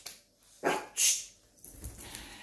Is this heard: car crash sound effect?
no